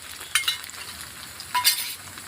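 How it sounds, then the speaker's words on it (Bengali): Ground ginger, cumin, two garlic cloves and dried red chili sautéed in hot oil for an egg dish, a soft steady sizzle punctuated by two bursts of metallic spatula clinks against the pan. "এবার আমি ভালো করে কষে দেবো।"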